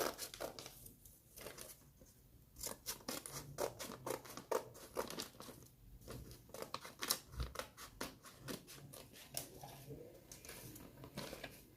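Scissors snip through a paper pattern for an off-shoulder bustier with a sweetheart neckline, giving a close, irregular run of crisp cuts and paper crinkles with brief pauses and no talking.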